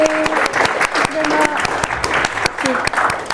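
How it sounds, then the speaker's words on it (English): An audience claps for assistants returning to their seats at a workplace talk, a brisk, close round of individual claps with a few voices faintly underneath. "Round of applause."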